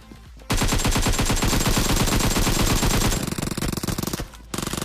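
AKM rifle gunfire in a battle royale video game: a loud, sustained string of rapid automatic shots with dense rhythmic bursts, a brief pause, then firing resumes.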